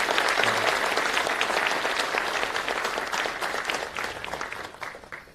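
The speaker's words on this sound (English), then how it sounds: "Can I request you all to give her one more big round of applause?" A large crowd applauds loudly and steadily, the clapping gradually thinning and fading toward the end.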